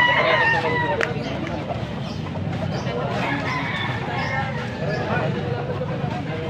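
Chickens cluck and a rooster calls amid the hubbub of a Pampanga poultry auction, bird sounds mixed into steady crowd chatter and nearby talking throughout.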